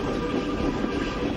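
A train pulls into a station, giving a steady, close rumble of rolling wagons with a broad low roar that holds for the whole short stretch, with no voices over it.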